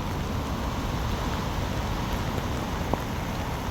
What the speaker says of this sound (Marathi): बेकार पाऊस